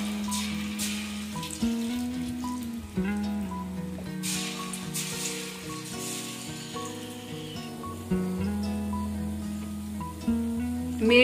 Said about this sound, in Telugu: ఆయిల్ హీట్ అయ్యింది, పకోడీ వేసుకుందాం।